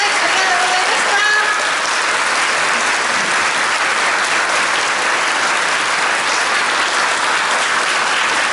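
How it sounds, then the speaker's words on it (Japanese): An audience gives sustained, loud applause after a performance by a junior high school brass band at an education festival, a dense wash of clapping that holds steady throughout with a brief voice near the start. "皆さん大きな拍手をお送りください。"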